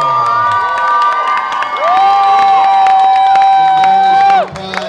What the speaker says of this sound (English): A round of applause for everybody in the contest.